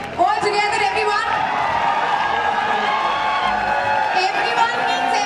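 A crowd at a company network-marketing event stands and gives sustained applause and cheering for its top leader, dense and loud with whoops and a voice carrying over the din throughout.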